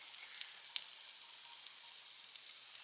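Pancake batter from a box mix sizzles on a hot pan as the first side cooks, a soft, steady frying hiss with a few small pops and crackles, faint and without any talking.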